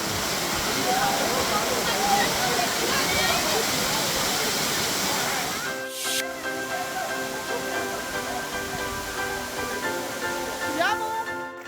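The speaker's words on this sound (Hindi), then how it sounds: "इतने ऊपर से ये पानी गिर रहा है" Bhalugaad waterfall in the Uttarakhand wilderness, water falling from a great height into a 40-foot-deep gorge, a loud steady roar that drops away midway, leaving faint tonal background sounds.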